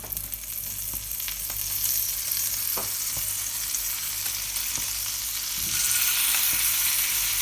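Butter sizzling in a hot frying pan for cranberry and orange dropped scones, a soft steady crackle and hiss with occasional small pops, fairly quiet and heard alone.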